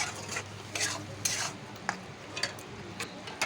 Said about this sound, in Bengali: নুন দিয়ে নাড়বেন।